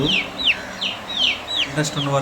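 Chicks on a poultry farm give a run of sharp, falling peeps roughly every half second, with chickens clucking low and close underneath.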